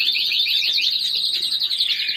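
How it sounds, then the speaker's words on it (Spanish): A mobile phone rings with a shrill, warbling electronic alert that repeats rapidly and steadily, close and clear against a quiet background. "Ese es mi teléfono"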